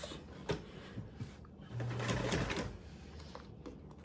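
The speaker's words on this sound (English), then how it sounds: "We're going to go ahead and sew with our 3D panel up." A sewing machine stitches a 3D bag panel with a 1/8 seam allowance in one short, steady whirring run of under a second, amid quiet handling clicks and bumps, with no talk.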